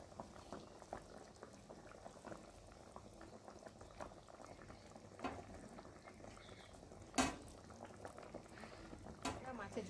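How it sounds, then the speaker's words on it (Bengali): A pot of fish curry bubbling on the stove, soft continuous boiling with small irregular pops and bursts, faint and close, with a couple of sharper clicks near the end. "দিয়ে আর এখন ফুটছে"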